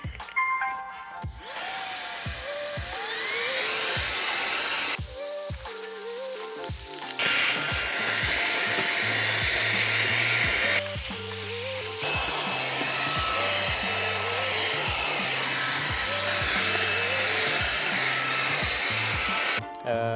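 A Jimmy HW10 washing vacuum cleaner works on a textile car floor mat inside a car, a steady whining motor hum with rhythmic pulsing strokes as the nozzle is pushed back and forth.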